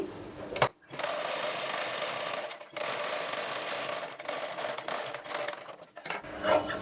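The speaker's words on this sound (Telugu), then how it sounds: "ఇప్పుడు దీనిపై నుంచి ఒక కుట్టు వేసుకోవాలి" A sewing machine runs in steady bursts, stitching along a folded edge of a blouse, with short pauses between runs and no talking.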